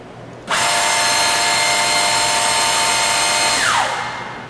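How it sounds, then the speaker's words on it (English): Drill motor on an OMAL HBD series bore and dowel machine spins up sharply to a steady high whine, runs evenly for about three seconds, then winds down with falling pitch. "turn on the drill motor."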